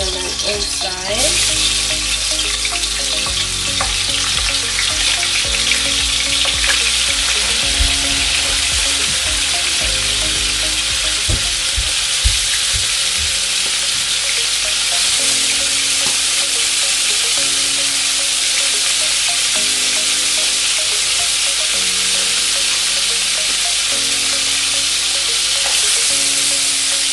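Oxtail sizzles loudly in a hot pot for Jamaican oxtail, a dense continuous frying hiss with scraping stir sounds close by and faint background music.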